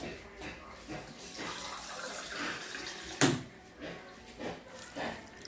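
A glass of water poured into a cooking pot while making pinangat na isda, a soft faint splash and trickle with a sharp knock of the glass, quiet kitchen sounds around it.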